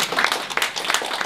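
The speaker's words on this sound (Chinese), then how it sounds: "我们给黄校长掌声好不好？" An audience at a school-closure forum applauds Principal Huang with a short burst of dense, overlapping clapping, loud and close, with no one speaking.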